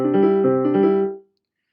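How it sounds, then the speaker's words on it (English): Piano plays a short three-against-two polyrhythm, two hands sounding interlocking notes for about a second before the chord rings and fades out cleanly, close and clear with no talking. "That's literally three beats going on in one hand on the piano while two beats are going on in the other"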